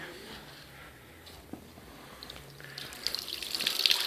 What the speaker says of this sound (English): Okay, so I'll turn the water on.